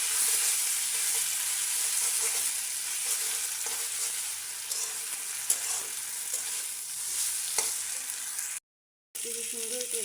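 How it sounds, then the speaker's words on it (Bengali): Dried chilies fry in hot oil for a Bangladeshi bhorta, a steady close crackling sizzle broken by occasional scrapes and stirring taps, with a brief dropout near the end. "তো আমি এখন এখানে মরিচ ভেজে নিচ্ছি"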